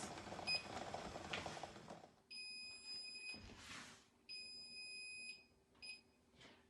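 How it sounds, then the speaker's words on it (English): An electronic kitchen timer alarm beeps in repeated bursts of high, steady tones, with short pauses between them, over faint kitchen background noise, signalling that eggs in boiling water are done. "Okay, the timer's gone off."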